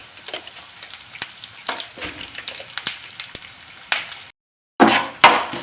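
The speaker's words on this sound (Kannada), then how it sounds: "ಬೇಳೆ ಕೊತ್ತಂಬರಿ ಜೀರಿಗೆ ಹಾಕಿ ಹುರ್ಕೊಳ್ಬೇಕು" Lentils, coriander seeds and cumin roasting in a pan for masala give a steady soft crackle and sizzle, with occasional scraping stirs and a brief pause before louder stirring.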